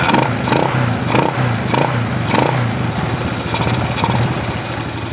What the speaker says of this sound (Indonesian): Saat kunci kontak on, kita on kan seperti ini, lalu kita double starter.